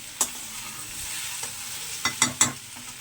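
Potatoes fry in a pan with onion, giving a soft steady sizzle broken by a few sharp clinks and scrapes of stirring, close and alone with no talk.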